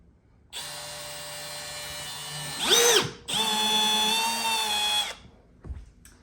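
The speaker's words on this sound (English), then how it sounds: "I got the tiniest drill bit I could possibly think of. It's just a pilot hole to drill the screw into." A small drill whirs in two steady bursts, high-pitched and close, with a brief pause and pitch dip between them before it stops, drilling a pilot hole with a tiny bit for a screw on a kayak.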